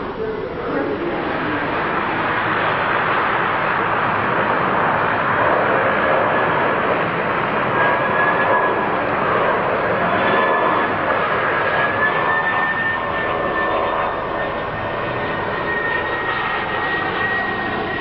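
Aircraft at the Toulouse aerospace factory: a steady, loud jet engine roar that holds for the whole stretch, with a voice talking over it.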